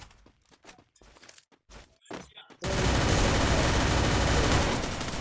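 Gunfire in the Free Fire video game begins as a string of scattered short shots and clicks, then breaks into a loud, sustained burst of continuous automatic fire that fills the rest of the moment.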